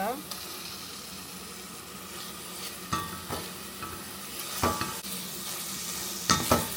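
Onions frying in a pan as tomato paste goes in, an even sizzle broken by stirring and scraping knocks, loud and close.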